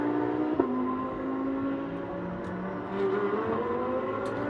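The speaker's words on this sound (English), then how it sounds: "But you can see now 789 car with ZHOU pushing on at the wheel." A GT3 race car laps the track during a qualifying session, its engine note sustained and rising through the gears with a quick shift, loud and steady without commentary.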